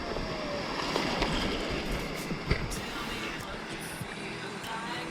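An ocean wave rushes in around a stand-up paddleboard in shallow water off the Goto Islands, Japan: a continuous broadband wash of surf mixed with wind buffeting the microphone, steady and fairly close.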